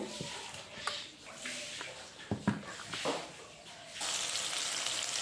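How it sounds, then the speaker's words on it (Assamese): Onion and garlic with five-spice seed mix frying in oil in a wok, a bright, steady sizzle that swells loud near the end, broken by a few clanks of a utensil against the pan. "এয়া তেলতে পিঁয়াজ নহৰু দিয়া হৈছে পাঁচফোৰণ দি দিলোঁ"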